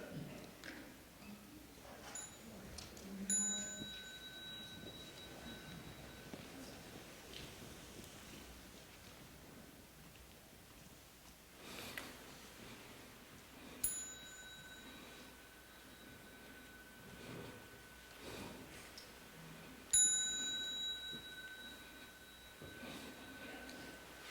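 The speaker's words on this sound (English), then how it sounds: "with the next sound of the small bell, please stand up" A small meditation bell rings three times at a monastery gathering. Each strike is a clear, bright, ringing tone that slowly fades over a quiet, hushed room with soft rustling.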